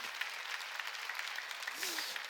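Congregation clapping during a Korean Sunday worship service, a brief patter of applause with distinct claps, and a voice briefly rising near the end.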